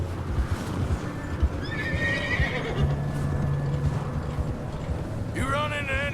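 Horse neighing and whinnying in Red Dead Redemption II, a whinny rising over steady rain or water noise and hoofbeats, with a second sharper neigh near the end.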